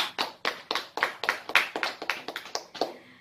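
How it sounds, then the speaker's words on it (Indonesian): A primary school class claps for a classmate named Yusuf. About a dozen sharp, fairly close claps fall in a quick, uneven rhythm, each one clear and separate, with no one speaking. "Oke, tepuk tangan untuk Yusuf."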